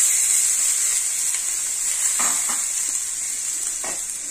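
Egg fried rice being stirred in a hot pan, with a steady sizzling hiss throughout and a few soft scraping strokes of the spatula, close and fairly loud, no voices.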